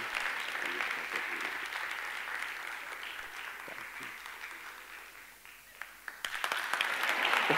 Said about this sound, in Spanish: ¿Que emerja un segundo aplauso?